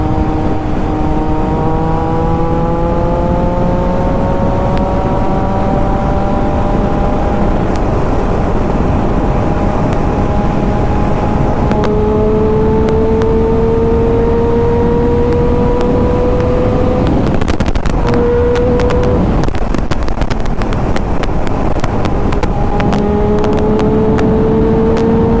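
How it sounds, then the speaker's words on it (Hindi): A Triumph Daytona 675 sport motorcycle engine revs hard at full throttle for a long stretch, its pitch climbing and holding high, with brief bursts of rattling noise partway through. "देखो फुल थ्रॉटल खींच चुका है"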